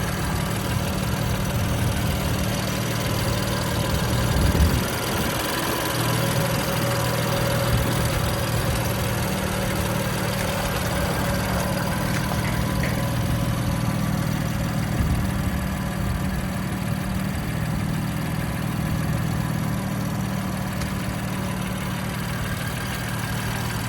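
A 2017 BMW M3 Competition idles steadily with a low, even rumble and a faint whine on top, holding the same level from start to finish with no voices over it.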